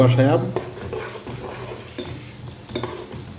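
Mixed fish and eggplant being stir-fried in a pan, with close scraping and clanking of a spatula over a low sizzle, a brief voice-like sound at the start.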